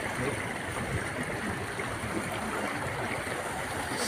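A small forest stream near Hechtsee flows with a continuous soft babbling rush, moderately close and even throughout, with faint voices mixed in.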